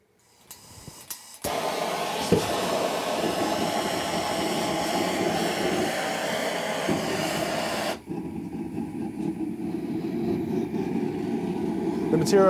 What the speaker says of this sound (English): let's go ahead and light up the forge